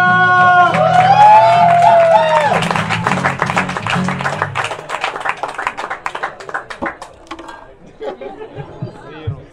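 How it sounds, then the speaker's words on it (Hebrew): A bar audience at a spoken word night cheers and claps for a performer, starting as loud mixed cheering with voices and then thinning into scattered, fading handclaps. "קבלו בבקשה במחיאות כפיים סוערות את טניה"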